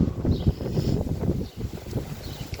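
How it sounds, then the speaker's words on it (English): Strong wind blowing outdoors, a steady low rumbling buffet across the microphone with gusty swells and a brief lull, heard alone without talk. "Holy wind!"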